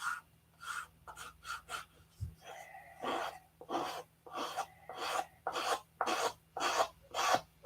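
A P-47 model wingtip being sanded back and forth, a rhythmic series of close, rasping strokes at a steady pace with no talking.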